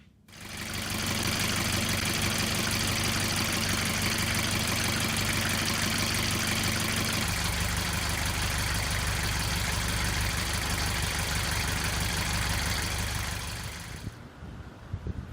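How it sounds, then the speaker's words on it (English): A sailboat engine starts and runs at a steady, loud idle with a rhythmic low throb, settling slightly partway through before cutting off near the end. "we'll see how it goes when we run the engine"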